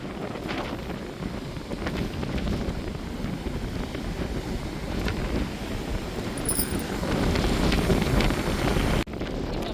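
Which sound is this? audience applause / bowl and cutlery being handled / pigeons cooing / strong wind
strong wind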